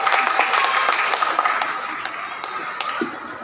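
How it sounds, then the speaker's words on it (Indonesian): A close, lively burst of hand clapping from an audience at a Betawi festival event, dense at first and gradually thinning out over a few seconds. "Tepuk tangan dong buat Raihan."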